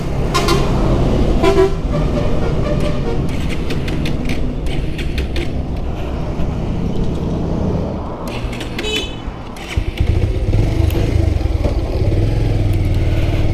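A Bajaj Pulsar Neon 150 motorcycle engine starts near the end of the stretch, its deep running rumble rising clearly and close after a quieter period of mechanical noise.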